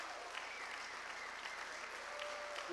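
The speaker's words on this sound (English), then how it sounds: "Give these people a huge round of applause." A live-event audience claps steadily for a group of board members, a dense, even wash of applause held at moderate distance with no speech on top.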